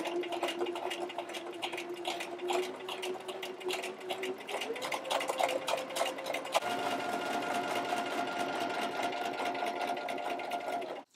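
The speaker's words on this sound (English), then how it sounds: "And you can watch right here as I stitch down just next to that fold line." A sewing machine stitches pin tucks along a pressed fold in fabric, its motor humming in a fast, even chatter that rises in pitch as it speeds up, close and continuous with no talking.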